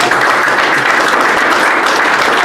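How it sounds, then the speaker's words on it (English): Loud, dense clapping from a crowd at a legislative send-off event, honouring a House Appropriations Committee member, filling the room evenly for a couple of seconds. "I hope we clap for him on that"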